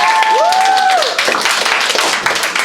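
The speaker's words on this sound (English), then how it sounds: "let's applaud Vera" Applause for Vera from a small group at the end of a physics talk, a short burst of clapping with a brief tonal chime at the start.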